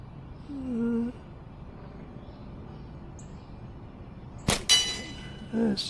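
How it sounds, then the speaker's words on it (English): A pine natural-fork slingshot shot strikes a red saw blade target with a single sharp metallic clang that rings briefly, heard at a moderate distance over faint outdoor ambience. "we'll take a shot at the red saw blade"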